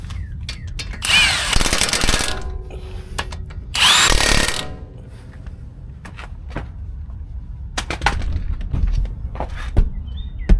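A power tool tightens a brake caliper pin during a brake job, in two short whirring bursts about two seconds apart, close and loud, followed by quieter clinks and handling noises.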